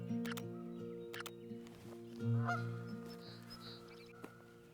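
A goose honks close by in a quiet outdoor setting, a few nasal calls and a louder honk midway, with faint higher bird sounds in the background and no talking.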